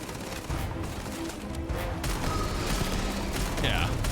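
Shotgun fire in the space game Starfield, a burst of booming blasts and rattling gunfire over a steady game soundscape, fairly loud and continuous.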